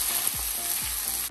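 Thin pork Filipino adobo sizzles steadily in a pan at home, a dense, continuous frying hiss with faint periodic low clicks over roughly a second, close and fairly loud with no talking.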